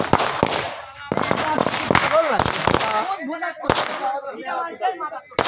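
Firecrackers go off in a quick run of sharp, loud bangs and pops, some close and some farther off, while several voices shout and chatter in between.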